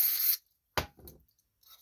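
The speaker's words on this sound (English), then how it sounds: "the bowl's a little dirty, so we're going to spray the bowl out" Aerosol cleaner sprayed into the dirty float bowl of a Tecumseh 8 hp 318 cc carburetor from an Agri-Fab leaf vac, heard as a close hissing burst, then a sharp short spray and a few fainter spurts.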